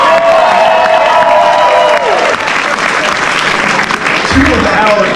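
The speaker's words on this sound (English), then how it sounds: "a round of applause for the parents of the groom, Hugh and Diana Heggie." Wedding guests applaud and cheer at a reception, a dense, loud wash of clapping with whoops and shouts layered over it, continuing steadily throughout.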